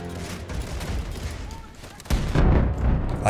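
Rapid gunfire and explosions from the video game Wolfenstein The New Colossus, dense bursts that grow heavier in the second half, loud, with a voice talking over them.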